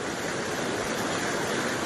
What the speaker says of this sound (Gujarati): ધોધમાર પાણીનો પ્રવાહ આવી રહ્યો છે ઓજત નદીમાંથી